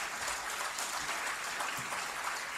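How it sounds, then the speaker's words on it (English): Steady applause from a large audience honoring award winners at a university convocation ceremony, dense and continuous clapping throughout with no talking over it. "please join me in applauding the fine performances of these award winners"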